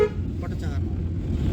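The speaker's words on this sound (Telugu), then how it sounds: "సిటీ మెడికల్ దగ్గర హార్న్ ఎక్కువ కొట్టాలి." A car horn gives a brief toot at a crossroads junction, heard from inside a car over a steady engine and road rumble.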